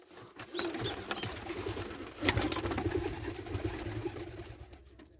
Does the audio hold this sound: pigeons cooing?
yes